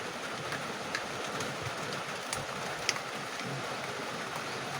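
Steady rain falls in a dense, even hiss, with no breaks and a few faint taps standing out. It is moderately loud and close, with no voices.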